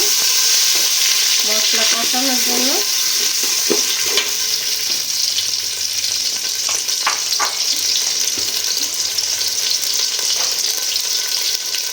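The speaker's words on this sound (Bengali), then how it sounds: "পেঁয়াজটা ভাজা হয়ে গেছে এখন পানি দিয়ে দিব" Water poured onto fried onions in a hot pan, loud continuous sizzling and bubbling with stirring scrapes, close up; someone speaks briefly partway through.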